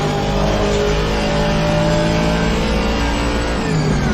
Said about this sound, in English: That's a good engine noise, huh?